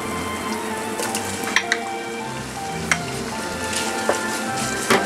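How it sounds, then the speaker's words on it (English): Bacon and thin-sliced garlic stir-frying in olive oil, a steady loud sizzle with a few sharp pops and scraping stirs throughout, no voices. "Stir fry them until the bacon becomes a little bit crispy, like this."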